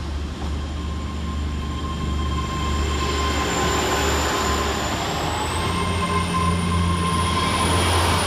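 An HST high speed train passes near Stonehaven with a loud, sustained rumble of wheels on rail, and a high whine rises partway through.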